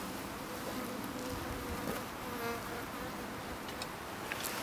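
A package of Italian honey bees, freshly driven up from Georgia, gives off a steady, dense buzz that holds evenly throughout, fairly faint and unbroken, with no voices.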